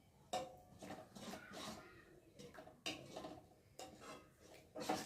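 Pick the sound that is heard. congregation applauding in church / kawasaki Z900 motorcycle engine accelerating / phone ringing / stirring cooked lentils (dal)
stirring cooked lentils (dal)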